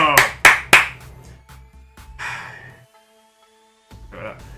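Three sharp claps ring out close by in quick succession during a FIFA 22 football video game, followed by a sigh and some breathy vocal sounds with brief silence between.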